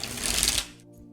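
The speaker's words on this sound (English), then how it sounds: "apparently sometimes Aura has a really hard time shuffling" A deck of tarot cards is shuffled once in a quick papery riffle that lasts about half a second, then goes quiet.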